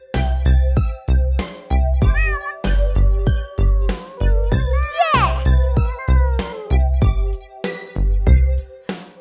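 In a sung nursery rhyme for children, voices imitate a cat meowing loudly in a steady rhythmic pattern over bouncy music with chiming notes.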